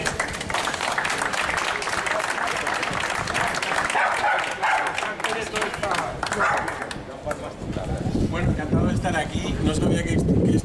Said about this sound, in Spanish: Un aplauso para David